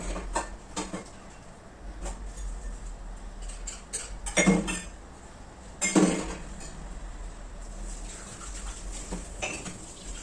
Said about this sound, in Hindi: तो ये 2-4 बर्तन और रह गए थे तो इसको भी निपटा ही देती हूँ।